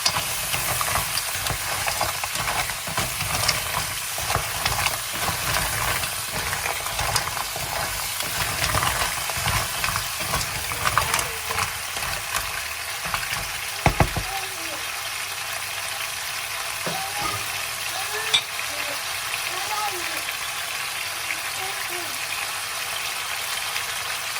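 Black mussels frying in a pan in a Sri Lankan kitchen: steady, busy sizzling and stirring noise throughout, with a voice speaking at intervals over it and the frying loudest in the first half.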